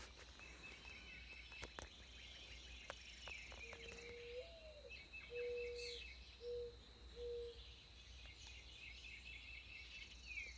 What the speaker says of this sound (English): Hear them birds?